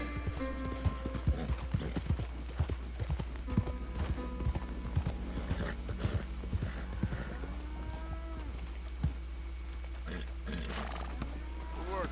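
Horse hooves in the video game Red Dead Redemption 2, a steady run of close clip-clop beats at a walking rhythm under a low game drone, with someone talking over them at times.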